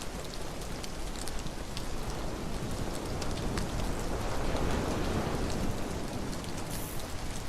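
Steady rain pouring down in the horror game The Mound: Omen of Cthulhu, a dense even hiss of drops on surfaces that holds constant from start to finish with no other sounds.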